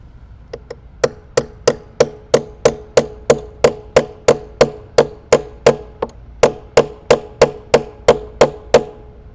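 Steady, evenly spaced hammer blows drive wedges into the seam of a whiskey barrel at a small cooperage, about twenty loud sharp knocks with ringing decay, a short pause midway, no talking.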